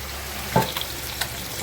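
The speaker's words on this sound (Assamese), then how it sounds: "এয়া তাৰ লগতে মোৰ মাছৰ ফ্ৰাইটোও হৈ আছে।" Fish fries in a pan of hot oil, giving a soft, steady sizzle with a few faint pops and clinks, without any talking.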